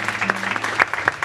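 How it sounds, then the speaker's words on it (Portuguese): A church congregation at a fifteenth-birthday celebration claps briefly, with a few sharp, irregular hand claps standing out over a steady background hum. "Você pode aplaudir a Deus mais um pouquinho?"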